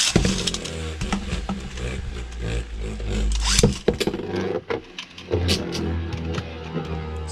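A Beyblade Barricade Lucifer spinning top makes a loud whirring, grinding rattle with a steady low drone, scraping sharply and sporadically against the stadium barrier, then settling into a continuous buzzing spin.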